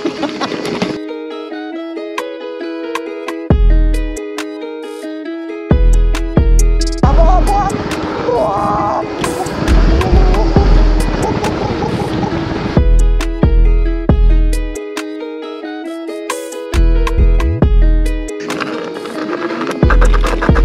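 A Voromotors Roadrunner Pro 60V 30A electric scooter ridden on a single motor gives off a steady whine with rushing wind and scraping road noise, swelling into louder bursts of wind and rattle, close and fairly loud throughout.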